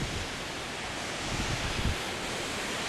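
A steady, faint wash of strong 30 mph wind blows outdoors past trees in a yard, an even broadband hiss with slight gusting swells and no voices.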